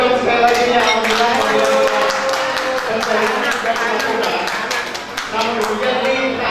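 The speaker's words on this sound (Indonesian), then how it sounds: "Tepuk tangan dong sekali lagi ya." A crowd at the Palmanep Jabodetabek congress claps together in steady applause after a vote, continuous hand claps blending with voices and background sound throughout.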